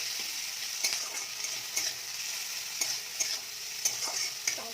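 Chopped tomatoes fry with softened, browned onions in a pan. A soft, continuous sizzle is broken by a regular spoon stir about once a second.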